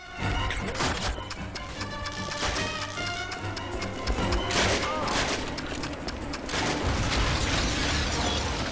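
Explosive charges blow up an armored vehicle in the Xbox 360 shooter Call of Duty: Finest Hour. Heavy booms and blasts rise over rattling gunfire and mechanical clatter, dense and continuous for several seconds.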